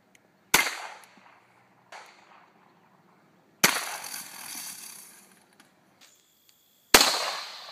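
Four sharp gunshots ring out at a shooting range as targets are engaged. The shots are loud, close and irregularly spaced, and each cracks and then fades in a short echoing tail.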